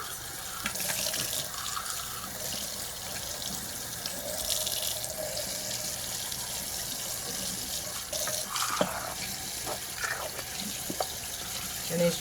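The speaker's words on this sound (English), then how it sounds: "I'm just gonna rinse all this out." Hot water runs steadily from a sink tap, rinsing printer ink out of an Epson EcoTank 15000 part. The flow is continuous and close, with faint clinks and handling sounds over it, and there is no talk.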